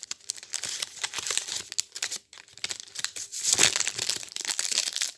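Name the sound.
handling small coloured paper envelopes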